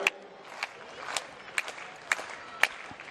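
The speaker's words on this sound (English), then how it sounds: "The crowd's getting behind her" Athletics crowd at a Perth track meet clapping in a rhythmic slow beat for a women's pole vaulter, each clap crisp and evenly spaced over a soft murmur, moderately distant.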